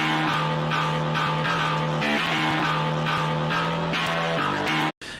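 Distorted virtual 8-string metal guitar widened from mono to stereo by a stereo enhancer on its strings setting, chugging a thick, sustained riff with low palm-muted notes, loud and continuous before a brief cut near the end.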